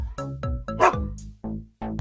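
A toy collie dog gives a quick series of short, sharp barks and yips, about six in two seconds, close and clear.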